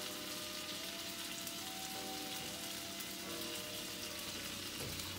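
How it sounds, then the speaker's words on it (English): Potatoes frying in olive oil on a hot skillet, giving a steady, dense sizzle and crackle that runs at an even level throughout with no talking. "I'm gonna go ahead and pour my potatoes on the skillet"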